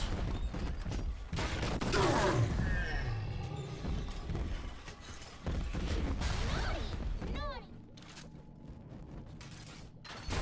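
In BioShock 2, a rocket launcher fires amid a dense, chaotic barrage of blasts, crashes and mechanical clatter that runs almost continuously before easing off near the end.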